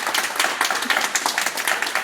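Audience clapping at an awards ceremony held at an art museum, a dense, steady patter of many hands close by, sustained throughout with no voices over it.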